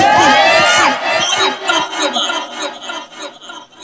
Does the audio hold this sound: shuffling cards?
no